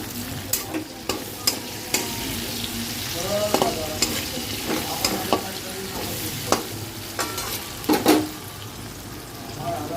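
Chili chicken masala with ginger and garlic paste, chopped garlic and onion sizzles in a pan, with a spatula scraping and stirring in frequent sharp knocks over a steady fry.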